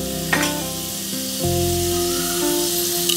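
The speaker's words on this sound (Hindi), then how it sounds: "तेल तो गरम है पहले से ही, इसमें मैंने ये तेज पत्ता डाल दिया" A bay leaf hits already hot oil in a pan while vegetables for a dum biryani are cooked, giving a steady close sizzle and hiss over a low background hum, with no talk.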